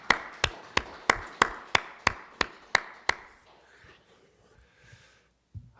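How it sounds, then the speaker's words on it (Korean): Synchronized clapping from a church congregation during a Korean Sunday service: around ten crisp, evenly timed claps in a brisk beat that stop, leaving faint room noise and a soft thump at the end. "지금 열심히 읽고 계신 분들 우리 응원의 박수 하겠습니다."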